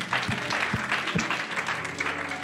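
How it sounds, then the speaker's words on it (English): Church congregation clapping together in praise during a worship service, a dense steady wave of applause with a few sharper individual claps standing out near the start. "Can you clap for the Lord?"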